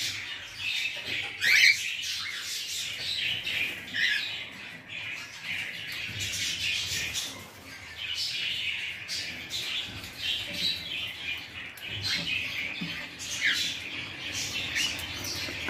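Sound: cockatiels squawking and chirping

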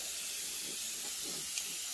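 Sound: Paasche VL double action airbrush spraying paint

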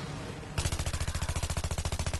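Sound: gunfire in Battlefield 3 video game

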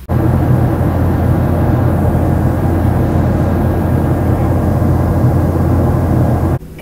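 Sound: airplane cabin noise during short flight

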